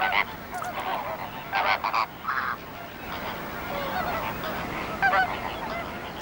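A flock of European flamingos gives loud, goose-like honking calls in overlapping bursts across brackish breeding-ground waters, fairly close, with no talking.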